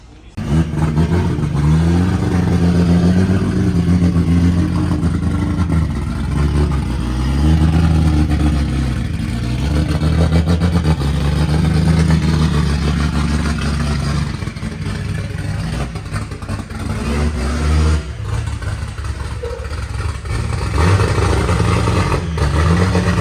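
A race car strapped onto a chassis dyno, its engine revving loudly and steadily in repeated rising and falling pulls, close and continuous for the whole stretch, with no talk over it.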